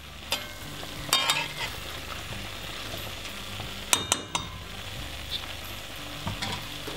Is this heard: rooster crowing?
no